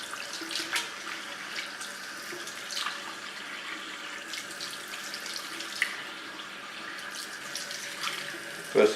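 Tap water runs steadily into a salon sink while red hair color is rinsed from a pixie bob, a soft continuous splashing stream with small shifts as hands move through the flow.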